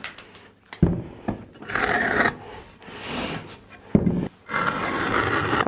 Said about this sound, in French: on va venir chanfreiner, arrondir les angles un petit peu